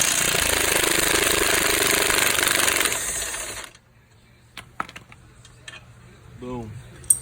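Impact wrench rattling loudly in a continuous burst for about three seconds as it removes a shock bolt on a 2019 Dodge Charger Scat Pack, then stopping, followed by quiet clicks and light handling noise.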